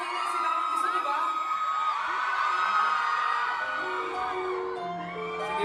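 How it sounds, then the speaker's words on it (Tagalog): Concert audience in San Francisco screaming and cheering loudly, a dense chorus of high-pitched shouts and whoops sustained throughout, fairly close. "Kailangan malakas yung sigawan."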